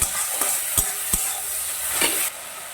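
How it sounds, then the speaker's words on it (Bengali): Spices and ginger paste stir-fried in hot oil for a vegetable dal, a steady close sizzle broken by several sharp scraping strokes of a spoon against the pan, no voices. "এবার একটু ভালো করে মশলাটাকে আমি কষিয়ে দেব"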